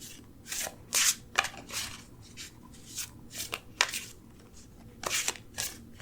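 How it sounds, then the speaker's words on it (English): Repeated crisp riffling and flicking of cards being shuffled, irregular bursts close up, with no one talking. "Let's keep shuffling to see what we get"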